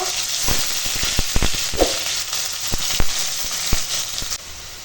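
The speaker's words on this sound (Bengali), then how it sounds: "এখন তেল গরম হয়ে গেছে তেলে দেবো পেঁয়াজ পেঁয়াজটা একটু ভেজে নেব" Onion hitting hot oil in a pan, a loud close sizzle with sharp pops and crackles scattered through a constant hiss, fading near the end.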